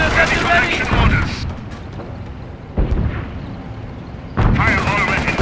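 Gunfire and artillery from the video game Company of Heroes, Operation Market Garden mission: dense rumbling battle noise with sharp bursts at the start and end and a quieter stretch between, heavy and loud throughout.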